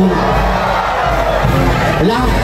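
A large festival crowd at the Obando dance celebration roars and shouts together in a sustained, loud wall of voices, with chatter mixed through the noise.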